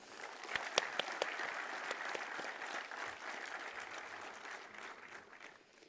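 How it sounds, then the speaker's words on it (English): A conference audience gives panelists a round of applause, a fairly faint but steady wash of clapping with a few sharp near claps early on, slowly fading out. "please join me in giving them a huge round of applause"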